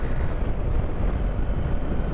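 Steady broadband wind roar buffeting the microphone while riding a BMW GSA 1250 motorcycle through the Goyt Valley, a dense continuous rush with heavy low-end rumble and no voices.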